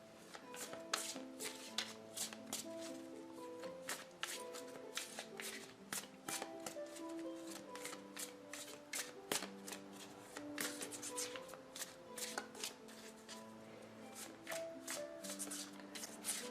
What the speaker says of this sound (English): let's pull some overview cards